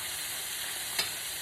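Chicken tenders frying in hot oil give a steady, even sizzle with a brief louder crackle midway, heard alone at close range.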